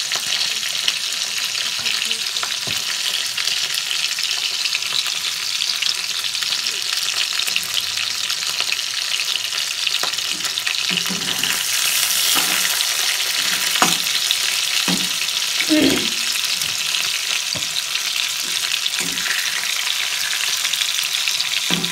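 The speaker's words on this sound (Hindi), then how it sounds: "आप इस तरीके से फ्राई करिए चिकन और खाइए" Chicken pieces for homemade tandoori chicken sizzle steadily in hot oil, a loud, continuous frying hiss with occasional stirring clinks and pops, no talking.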